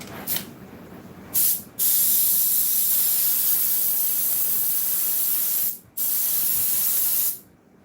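A spray gun hisses out upholstery glue while a 1974 Ford truck seat is being recovered. Two short blasts come first, then a long sustained spray, a brief pause, and another long burst, all loud and close.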